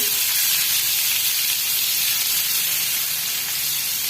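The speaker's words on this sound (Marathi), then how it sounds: "कांदा टाकायचा आहे आणि परतून घ्यायचं आहे" Chopped onion sizzles and hisses in a hot pan with cumin and garlic pieces, a loud, continuous frying hiss close up with no talking.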